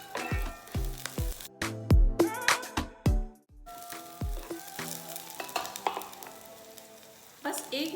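Green chillies hit hot oil in a pan for chilli paneer, crackling and sizzling loudly in sharp bursts before settling into a steady fry with clanks of a utensil.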